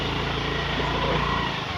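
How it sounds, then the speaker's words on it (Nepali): A scooter engine drones steadily on an offroad track, a continuous close, buzzing motor sound held at even loudness throughout. "म स्कुटर चलाइरहेको छु"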